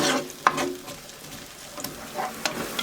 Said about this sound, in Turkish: Şimdi soğan ve biberler kavrulana kadar pişiriyorum.